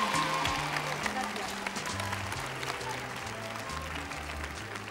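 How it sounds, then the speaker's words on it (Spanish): A TV studio audience at a 1982 New Year's Eve game show claps steadily, fairly soft, while low sustained music tones play underneath, and a voice may speak briefly. "un aplauso de igual que de Pancho y Javi para Alejandra,"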